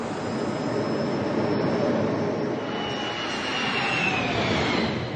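A 1968 Lotus race car with a Pratt & Whitney turbine jet engine gives off a sustained, even whooshing roar. A thin high whine slides slowly downward as it passes, steady and fairly loud with no voices.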